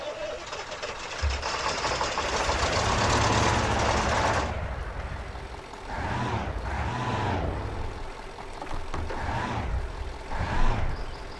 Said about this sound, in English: But when you start the engine, listen to this.